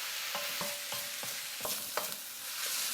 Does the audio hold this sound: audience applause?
no